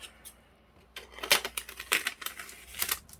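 Scissors snip and crinkle through plastic packaging joining two large Head & Shoulders itchy scalp care shampoo bottles, with a few close crisp cuts and rustles.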